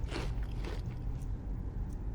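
A character eats crusty bread in the video game Enderal, giving a couple of crunchy bites followed by softer chewing, close and fairly loud over a low background rumble.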